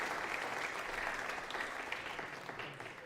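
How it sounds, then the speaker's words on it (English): Audience applause at a MODUS Super Series darts champions night, a steady, dense clapping from a crowd that stays loud throughout and eases off slightly toward the end. "That deserves a round of applause."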